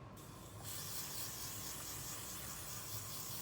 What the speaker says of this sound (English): And then you're just gonna spray.